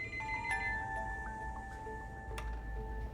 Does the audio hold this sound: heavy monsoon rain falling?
no